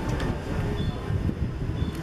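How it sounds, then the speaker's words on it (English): A tram rolls along a Moscow street near Novokuznetskaya on a spring day, with a steady rumble of wheels on rails and faint clacks, moderately close and unbroken. "We got a tram right there."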